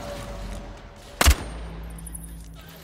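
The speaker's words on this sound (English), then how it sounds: "Entity is shooting at somebody. Somebody's shooting back at the entity." Gunfire exchange in the online game Bloodhunt: a single sharp, loud shot-like burst stands out briefly mid-clip over a low background hum, with no further shots following.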